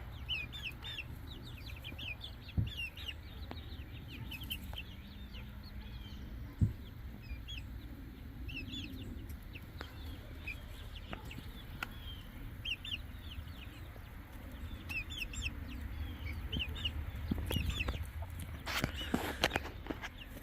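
Wyandotte rooster clucks and short calls scattered over a steady outdoor background, moderately close, with occasional louder bursts toward the end.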